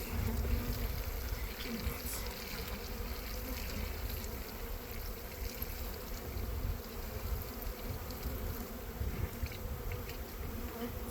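Honeybees hum steadily at an apiary as 2022 splits are moved into a ten-frame hive body, a dense, continuous buzz close to the hive with faint handling noises and no talk.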